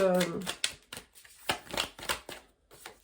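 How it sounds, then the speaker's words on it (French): Oracle cards being shuffled by hand, a series of quick crisp riffling flicks in an uneven rhythm, close and fairly quiet, with a brief voice at the start. "j'ai envie de tirer une petite carte avec l'oracle 22 de Fleur de Vie Cadeau également"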